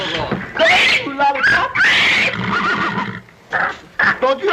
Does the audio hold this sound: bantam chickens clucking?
no